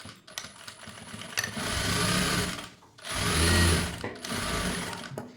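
A sewing machine runs in two long bursts while stitching a blouse, its steady whirring motor and needle chatter loud and close, separated by a short pause.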